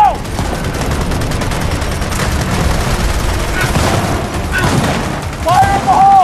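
Gunfire and explosions from the video game Gears of War 4, a loud continuous barrage of shots and booms with shouting voices mixed in throughout.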